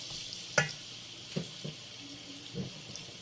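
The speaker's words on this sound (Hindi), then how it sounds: "इस प्याज को हम यहाँ पे बिल्कुल तल लेंगे अच्छी तरह से, इसका कलर चेंज हो जाए" Onions frying in a pan for a Bombay chicken biryani, with a soft sizzle under a few sharp clacks of stirring utensil against the pan.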